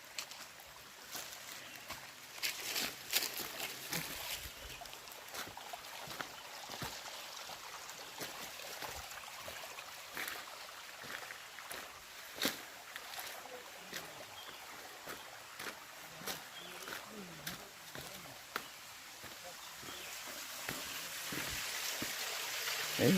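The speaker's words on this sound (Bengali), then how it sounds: "এই দেখুন ঝর্ণা, এর নাম হচ্ছে ধাঙ্গি ফল।" Faint, steady watery hiss of Dhangi Falls, a waterfall stream in dense forest behind Dhangi hill, heard from a distance with scattered small splashes and taps.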